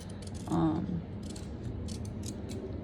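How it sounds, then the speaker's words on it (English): Worn, dulling scissors snip the fabric edge of a ladies' wallet being sewn, a single short crisp cut near the mic, followed by quieter handling sounds with no talk. "let me go ahead and just clip this because my scissors are going bad"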